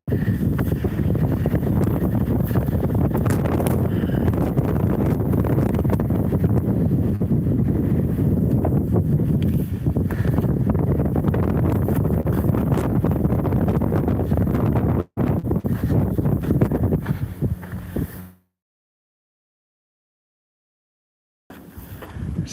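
Gusty wind buffets the microphone on a rocky Hawaii hiking trail, a steady loud rumble that drops out briefly near the end.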